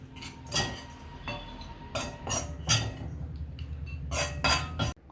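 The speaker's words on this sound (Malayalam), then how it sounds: "ഇനി തണുക്കാനായിട്ട് ഒരു ബൗളിലേക്ക് മാറ്റി വയ്ക്കാം" Roasted ground coconut and spice mixture for a homemade Kerala fish curry being scraped and moved into a bowl, with repeated metal-on-metal clinks and scrapes close by, several sharp knocks spaced irregularly.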